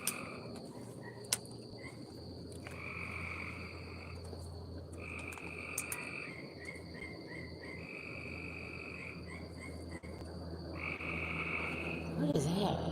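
Several frogs croak outdoors at night in repeated bursts, with a steady chorus of crickets and insects filling the background throughout.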